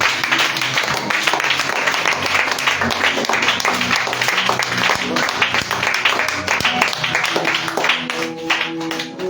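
A church congregation applauding during worship, dense, loud sustained clapping from many hands that fills the room, with voices and a tonal sound mixed in and rising toward the end.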